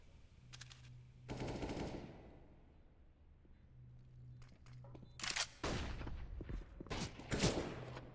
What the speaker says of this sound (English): Scout shots coming through.